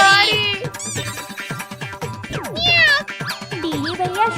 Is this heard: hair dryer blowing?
no